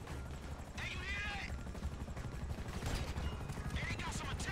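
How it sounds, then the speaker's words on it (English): An attack helicopter circles overhead in Grand Theft Auto V, a steady mechanical rotor drone under a firefight with scattered gunfire and bursts of voices on top. "now there's a chopper coming around"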